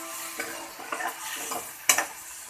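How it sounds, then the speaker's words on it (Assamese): Potato and paneer cubes fry in a pan while a spoon stirs them, with soft sizzling under a string of scraping strokes and one sharper clack near the end. No one speaks. "এইখিনি এতিয়া অকণমান ভাজি ল'ম"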